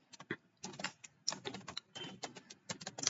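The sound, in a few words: computer keyboard typing a test script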